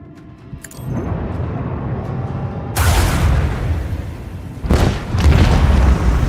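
Lance fired at a ship in the Rogue Trader video game, heard as a rumbling launch followed by heavy booming explosions, three big loud bursts with rolling low-end tails.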